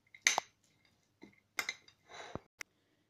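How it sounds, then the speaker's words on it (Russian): A spoon clinks and scrapes against a bowl while a filling with prunes, salt and black pepper is mixed, several short separate bursts of clinking and scraping with quiet pauses between them, close and fairly soft. "И хорошенько начинку перемешиваю."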